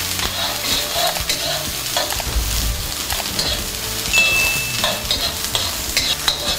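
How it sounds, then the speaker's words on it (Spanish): Garlic and onions frying in a pan, giving a loud, close, continuous sizzle with frequent spoon-stirring scrapes and knocks and no talking. "Colocamos aquí los ajos, las cebollas, y vamos a empezar a freír."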